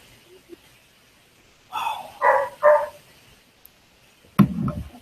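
A dog barks three times in a quick cluster, loud and close, then lets out a single lower, rougher bark or growl a moment later, with quiet room noise between the bursts.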